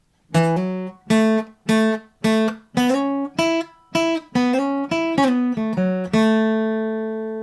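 A melodic electric guitar lead line from a guitar solo, a dozen or so plucked notes at a steady pace, ending on a sustained note that fades, with no voices.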